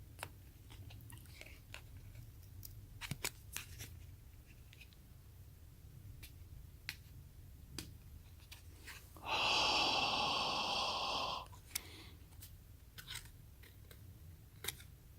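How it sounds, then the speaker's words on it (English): Price sticker peeled off a Michael Kors item at an outlet store, one loud close tearing rip lasting about two seconds, set among quiet handling noises and small clicks. "Let me peel this off real quick"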